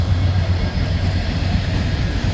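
A heavy ethanol freight train rumbles past close by at Tansley on a rainy morning, a steady low roar with rolling wheel noise and no breaks.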